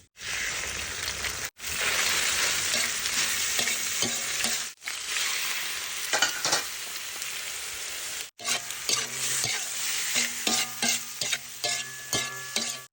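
Garlic, pork, squid and shrimp stir-fried in hot oil, a loud close sizzle broken by brief pauses, with rhythmic scraping and clattering strokes of a utensil against the pan, especially toward the end.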